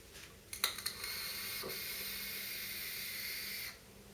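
An Ego One VT kit e-cigarette gives a steady breathy hiss of vapor lasting about three seconds, after a few short clicks, close and moderately loud with no talk.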